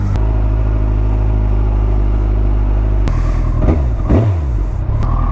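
A Kawasaki ZX14 motorcycle fitted with a manual cam chain tensioner idles loud and close, a steady low rumble that briefly blips and revs twice in the second half before settling back to idle.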